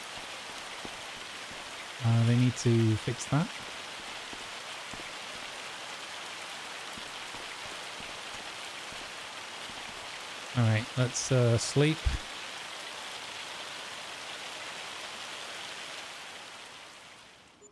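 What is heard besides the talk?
rain falling on the house in Farming Simulator 25 video game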